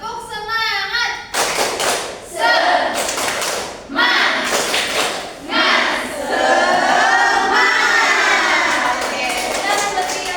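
A classroom group performs a rhythmic spirit clap, bursts of hand clapping in short patterned phrases with thumps, interleaved with loud voices chanting and talking throughout.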